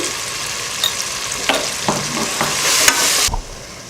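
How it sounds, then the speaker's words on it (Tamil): Chili, coriander and garam masala powders sizzle with tomato in a hot pan for egg biryani, a steady close frying hiss broken by a few sharp stirring scrapes of the spoon, ending with a louder clatter. "இதில் மிளகாத்தூள், மல்லித்தூள், கரம் மசாலா தூள் வதக்கிட்டு தக்காளி வதங்குறதுக்காக கொஞ்சம் உப்பு."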